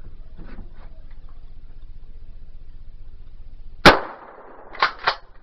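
A shotgun fires once with a loud, sharp blast and a short decaying echo outdoors, followed by a couple of quicker clicks or clacks from handling, over a low steady background rumble.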